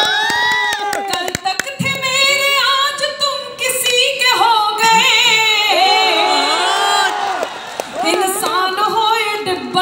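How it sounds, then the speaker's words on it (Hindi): An audience at a live event breaks into clapping mixed with cheering and shrill whoops, loud and sustained across the whole stretch with no pause. "खुद ही ताली बजा रहे हैं"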